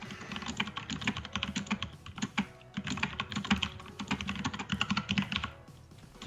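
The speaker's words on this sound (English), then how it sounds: "That is a noisy keyboard. It's a mechanical Yes. keyboard." Rapid, continuous clacking from a noisy mechanical keyboard, keys struck in quick irregular bursts with brief pauses, close and crisp throughout with no talking over it.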